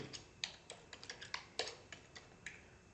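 Quiet, uneven keystrokes on a computer keyboard as a product name, cold drink, is typed in, with about a dozen light clicks spread over three seconds and no talking.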